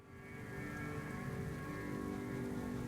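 Rain falling in the World of Warcraft video game, a steady soft patter and hiss that holds evenly throughout, with no voices.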